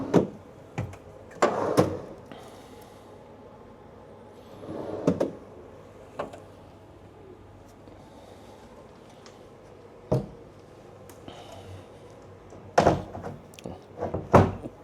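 A hotel room door in a Bangkok hotel, one that fits poorly, is opened and closed with scattered thuds and knocks. Quiet room tone fills the gaps, with a couple of firmer bangs near the end.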